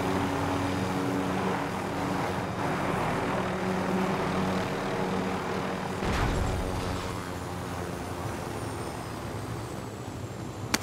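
Aircraft engine drones steadily as the player pilots in Warzone, a continuous propeller-like hum with a brief whooshing swell midway and a sharp click at the very end.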